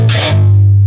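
Palm-muted electric guitar riff, played loud with heavy distortion: a brief choppy burst followed by a sustained low ringing chug, with no talking.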